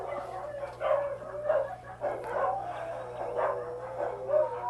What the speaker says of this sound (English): That's what it sounds like when you have 6 dogs.